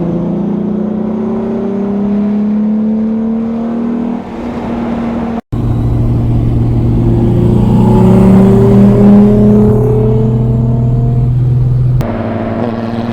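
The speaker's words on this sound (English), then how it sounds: "The sound of one VR6 cruising around is awesome" Two VR6-engined cars hum and rise in pitch as they accelerate while cruising, a steady close drone with a short dropout midway, no voices.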